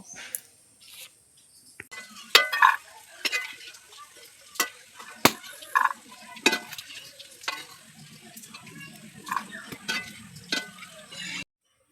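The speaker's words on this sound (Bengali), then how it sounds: "এতগুলো আমার ভাজা হয়ে গেছে, বাদ বাকি আমি আবার ভেজে নেব" Crispy tea-time snacks deep frying in oil in a kadai, with a bubbling sizzle and a series of sharp clinks and scrapes as the pieces are stirred, fairly close and with no talk.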